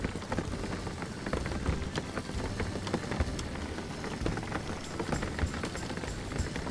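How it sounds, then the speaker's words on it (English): Steady rain drums on a car in the video game Jalopy, a dense, even patter close around the cabin with occasional sharper drops, continuous and alone without talk. "just enjoy the rain effect"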